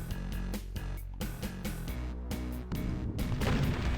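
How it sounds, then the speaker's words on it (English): Repeated super shotgun blasts fired at an archvile in Doom's Plutonia Experiment, map Congo, heavy booming shots at a steady rhythm over tonal game music. "So we're going to use our newly acquired super shotgun to drop this bastard."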